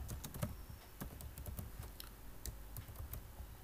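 Rapid typing on a computer keyboard while entering HTML paragraph tags in Notepad++, a steady patter of close, crisp key clicks with uneven rhythm and no voices.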